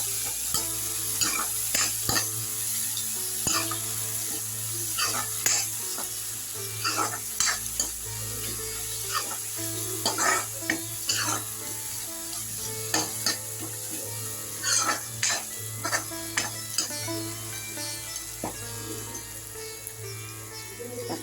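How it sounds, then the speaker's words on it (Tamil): Tomatoes sizzle and soften in a pan for mushroom biryani, stirred with a spoon in frequent scraping strokes over a continuous close frying hiss; no talking. "தக்காளியும் கொஞ்சம் மசிய வதங்கட்டாங்க."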